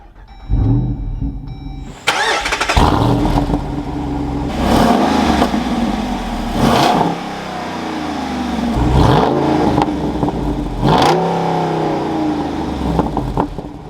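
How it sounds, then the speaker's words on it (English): A 2024 Jeep Wrangler Rubicon 392 V8 cranks and fires up with a loud bark, then revs repeatedly in several deep surging blips that settle back to a rumbling idle between them. "let's fire this back up and take a listen to how this V8 sounds"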